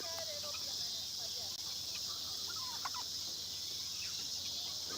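Chickens cluck and murmur at a distance in a farm chicken yard over a steady outdoor hiss, with scattered short calls.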